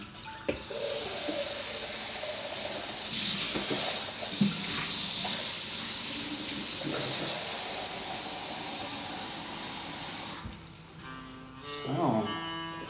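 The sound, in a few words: warm water running from a tap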